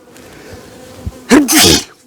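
A single close, loud sneeze, sharp and breathy, bursting out after a stretch of quiet, faint background hum during a honey bee package install at a backyard hive.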